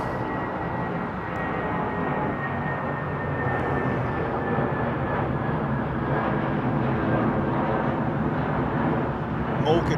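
An airliner departing London Heathrow Airport at sunset gives a steady, broad jet roar that holds throughout at a moderate distance, with no talk.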